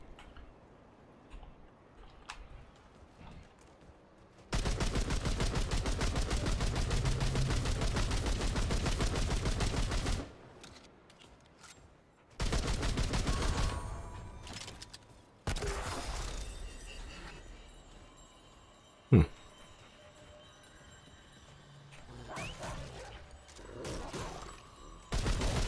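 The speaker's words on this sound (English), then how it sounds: "Who else is shooting?" Gunfire in the video game Remnant 2: a long, loud, sustained burst of rapid automatic fire for several seconds, then a second stretch of shooting with scattered sharp shots and pauses, and quieter game ambience between.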